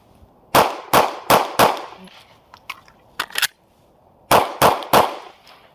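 Handgun loaded with four rounds fires repeatedly until the slide locks back: four sharp shots in quick succession, a pause with a few small clicks and clatters, then three more loud reports close to the microphone, with no talking.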